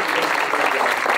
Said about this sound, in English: One last round of applause for Michael Garner.